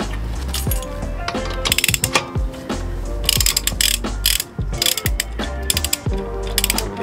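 A torque wrench clicks repeatedly while tightening Spoon Sports lug nuts on an Acura RSX DC5, with sharp, close ratchet-like clicks and mechanical clatter coming in quick bursts, no voices.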